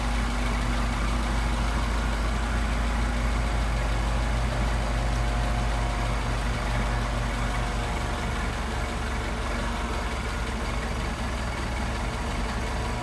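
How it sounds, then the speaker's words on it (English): Engine fitted with a Singapore Solex carburetor, idling low and even as a steady droning rumble for the whole stretch, with no speech. "I'm going to idle it down to see how low this thing will idle."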